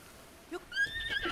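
A horse in the video game Zelda: Breath of the Wild, heard during rain near Satori Mountain, lets out a single close, rising whinny after a brief snort.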